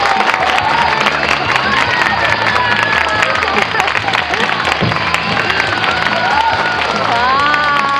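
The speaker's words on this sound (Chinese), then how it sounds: "让我们用热烈掌声欢迎节目主持人" A live stage show audience applauds and cheers to welcome the host, with steady crowd noise and clapping that runs throughout. Voices and some tonal sound carry on over the applause.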